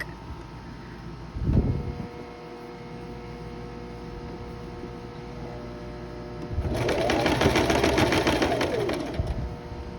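A sewing machine runs in a steady burst of stitching on a parasol dress, loud and close, then stops, with a quiet hum and a brief handling noise earlier.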